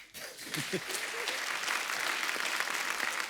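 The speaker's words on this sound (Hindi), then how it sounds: "एक बार रणबीर कपूर के लिए जोरदार तालियां हो जाए।" A studio audience on the Kapil Sharma Show breaks into loud, sustained applause and cheering right after a voice at the start.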